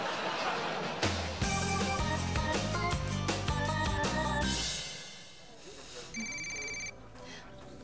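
A mobile phone ringtone plays as a melodic electronic tune, steady and loud in a room, then shifts to a brighter repeating chime pattern.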